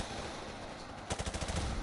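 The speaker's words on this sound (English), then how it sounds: "we've got a hectic night vision firefight going on down here in the trenches" Rapid bursts of automatic gunfire during a night-vision trench firefight in Call of Duty: Modern Warfare Remastered, a loud rattling volley of close shots following a brief stretch of noisy battlefield rumble.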